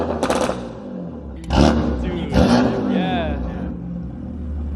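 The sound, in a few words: BMW F80 M3 S55 engine revving through aftermarket exhaust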